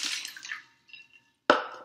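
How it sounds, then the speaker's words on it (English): Ice is dumped into a container of water in a classroom science experiment, a splashy pour followed by brief dripping and a sharp plop near the end, close and fairly quiet. "We're going to dump the ice into the water."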